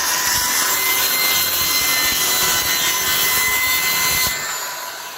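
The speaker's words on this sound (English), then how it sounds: "So that was done with the corded circular saw." A corded circular saw rips through wooden board in one continuous loud, high whining cut that stays steady and then trails off at the end.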